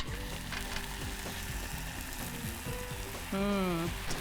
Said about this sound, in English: let's flip those mushrooms